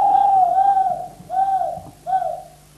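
A pet dove cooing up close, three loud, smooth, tonal coos in a slow rhythm with short gaps between them and no talking.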